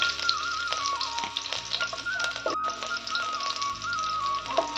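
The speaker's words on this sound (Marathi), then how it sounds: "यात टाकायचं आपल्याला पहिले लसूण आणि स्वाद फार छान येतो" Garlic frying in oil in a pan for a traditional village-style fenugreek and pigeon pea vegetable dish, a steady close sizzle with scattered crackles and utensil taps under faint background music.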